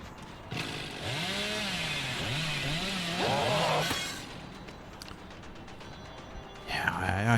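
Billy's chainsaw revs in Dead by Daylight, a buzzing motor roar that rises and wavers for several seconds, then drops away before a brief final burst. Whispery voices and other game sounds run underneath.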